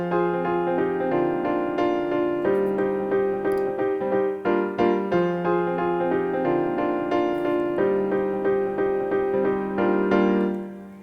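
Piano remake of a song built in Logic Pro with stock instruments, played with the sustain pedal held so chords ring and blend; steady repeated chords and a melody line, close and continuous, no voices.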